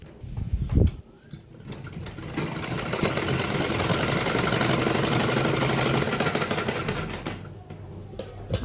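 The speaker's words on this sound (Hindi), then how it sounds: "तब अब हम डबल सिलाई पर लगाए देंगे" A sewing machine stitches a blouse in a long steady run of rapid mechanical whirring, close and fairly loud, starting after a brief clunk and fading near the end.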